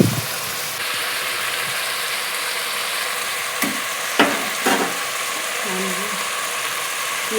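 Vegetables for pulao fry in hot oil with a steady, even sizzle throughout, broken by a few scraping clinks of a spoon stirring against the pan.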